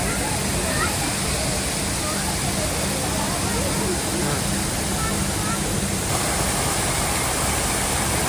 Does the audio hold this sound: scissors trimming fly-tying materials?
no